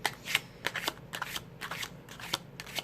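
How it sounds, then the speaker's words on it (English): Tarot cards shuffle in quick, crisp riffling bursts, close and fairly quiet, repeating in an irregular rhythm with no talking. "If you do not want to watch the shuffling, you can fast forward just a little bit."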